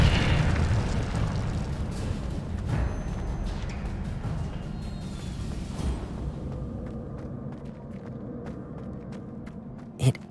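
An Incendio fire spell cast in Hogwarts Legacy, heard as a sustained roaring, crackling burst of flame that gradually fades, with faint footsteps and a sharp pop near the end.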